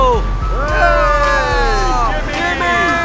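Ice cream truck jingle playing outside, its gliding melodic tones heard continuously at moderate volume over a busy background with voices and low rumble.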